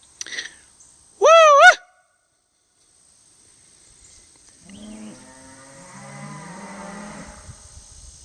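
A man gives a loud, warbling cattle call, then after a pause a herd of cows answers with distant, drawn-out moos that overlap and carry for several seconds.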